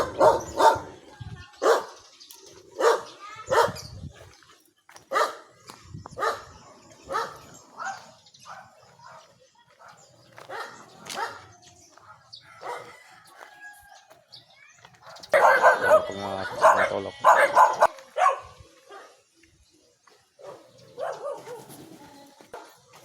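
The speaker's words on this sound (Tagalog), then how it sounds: "Tapang aso rito. Nakakulong." A fierce caged dog barks again and again at close range, with a steady run of loud single barks and a denser, more frantic stretch partway through, and no talk over it.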